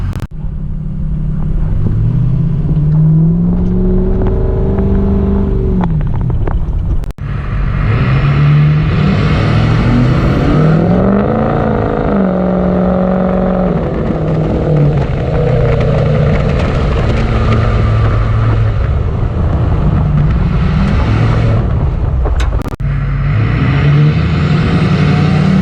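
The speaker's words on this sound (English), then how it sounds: "Let's go for a ride in the truck." A Ford 6.0 Powerstroke diesel truck with a blown head gasket heard from inside while driving: a loud, continuous engine drone that rises and falls in pitch with gear changes and acceleration, with road rumble underneath.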